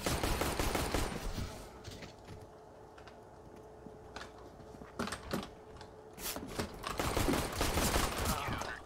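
Pistol gunfire in a CS:GO Wingman match, with rapid clusters of sharp shots between quieter stretches and dense bursts at the start and end.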